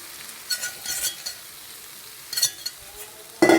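Beaten egg poured into a frying pan for an egg masala stir-fry sizzles quietly as a spoon stirs it, with short scraping bursts and a louder sizzle at the end.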